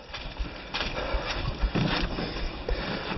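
Boots squelch and suck through deep mud on a wet portage, a few soft irregular wet pulls and slurps close by against steady muffled outdoor background.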